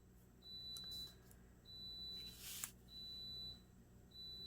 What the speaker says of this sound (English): that was just my Instant Pot turning off